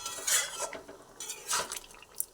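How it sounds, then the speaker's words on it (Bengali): A spoon scrapes and clinks against a pot while stirring a simmering green pea curry, two clear bursts of metallic stirring up close with soft bubbling between. "দিয়ে দেওয়ার পরে আবার ভালোভাবে একটু এধার ওধার করে আমি এটা ফুটিয়ে নিচ্ছি"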